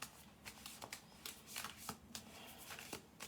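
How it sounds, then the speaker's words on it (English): A deck of tarot cards is shuffled close by, with a quick series of soft riffling, flicking bursts in an uneven rhythm in an otherwise quiet room. "Do one more shuffle through."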